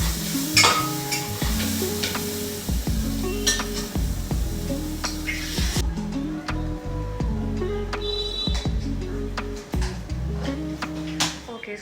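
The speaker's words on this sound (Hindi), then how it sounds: "मैं दाल में ना छौंका लगाने का प्रिपरेशन कर लेती हूँ" Loud, steady sizzling of a tadka tempering for dal frying in hot oil, with frequent metallic clinks and scrapes of stirring against the pan close by.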